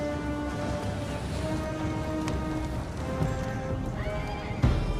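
A horse whinnies amid the din of a video game battle, a rising neigh near the end over a steady wash of rain-like noise, clattering hooves and distant clashing.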